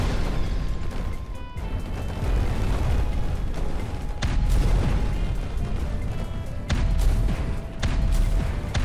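A projectile driven by an array of 63 overdriven magnets bursts in a sustained, loud roar of blasts and rumbling booms, with sharper cracks near the one-, four- and seven-second marks.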